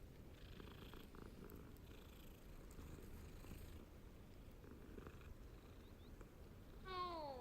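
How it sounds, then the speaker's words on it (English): A cat in Hogwarts Legacy purrs steadily while being petted, a soft continuous low rumble running throughout, joined near the end by a brief rising chime-like sparkle. "we are going to pet the cat"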